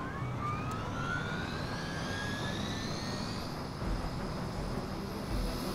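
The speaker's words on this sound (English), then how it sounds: "Okay, so stop the helicopter again." A helicopter in the video game Marvel's Midnight Suns gives a steady broadband rumble with a rising mechanical whine that climbs in pitch and then holds, continuous throughout and unaccompanied by talk.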